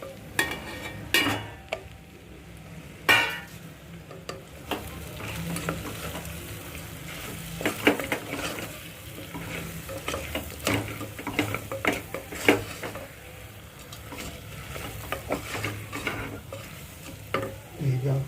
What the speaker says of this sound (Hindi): अब इसको 2 से 3 मिनट तक भूनना है, ऐसे ही मीडियम आंच पर।